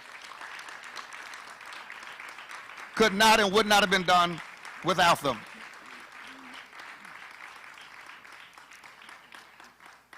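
Audience applauding board members at a Harris County officials' event at NRG Park, two short bursts of clapping under and between someone speaking into a microphone over a faint room hum.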